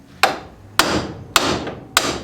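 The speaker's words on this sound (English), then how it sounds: "We'll hit the spindle." Hammer striking a steering spindle to free a ball joint, four sharp metallic blows spaced about half a second apart, each ringing briefly, loud and close with no talk.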